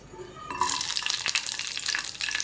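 Green chillies and chana dal fry in a spoonful of oil in a kadai, a bright crackling sizzle that bursts up loudly and keeps popping, with a spoon stirring and scraping through it.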